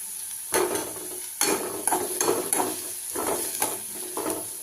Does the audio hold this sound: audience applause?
no